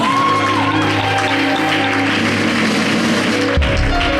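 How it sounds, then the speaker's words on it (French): Loud, dense applause from a live gospel show audience, steady and continuous, with tonal music or voices layered underneath before a brief break near the end. "On applaudit très fort."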